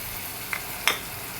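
Fish frying in a pan with fish spice mix and red chilli powder gives a steady, soft sizzle, broken by two quick stirring clicks close by.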